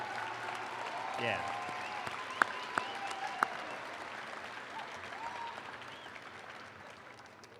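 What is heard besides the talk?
audience applauding graduates' families and friends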